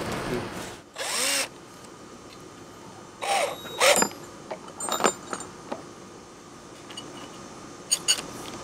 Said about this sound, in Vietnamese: giờ còn khoan cái lỗ đó nữa là xong